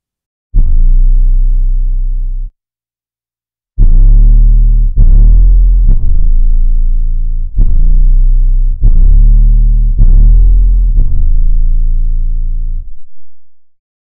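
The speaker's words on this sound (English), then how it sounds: "The distortion knob changes the amount of wave-shaping distortion." A series of deep, buzzy hip-hop synth bass notes from the OSIRIS plugin, one long then several shorter ones in sequence, each gritty with wave-shaping distortion and fading out, played alone.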